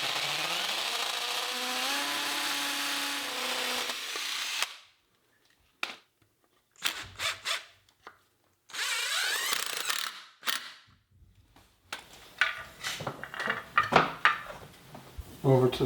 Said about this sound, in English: We'll get the bottom screw in